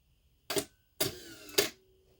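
A Pentax A3000 film camera, heard in three sharp mechanical bursts close up: a short click, then a longer whirring shutter and frame-advance action ending in a final snap, with quiet between.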